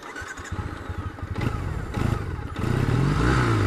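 A 2013 Triumph Bonneville twin-cylinder motorcycle engine cranking with a clattering starter, catching, and settling into a loud, close, steady rumbling idle.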